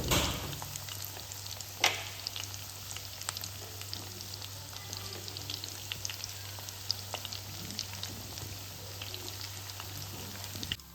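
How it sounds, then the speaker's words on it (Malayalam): Bread and egg cutlets frying in hot oil, a steady close sizzle with scattered crackling pops and one sharper knock near the start. "അപ്പോൾ ഇത് നമ്മളെ കട്ട്ലേറ്റ് നല്ലോണം പൊരിഞ്ഞ് വന്നിട്ടുണ്ട്."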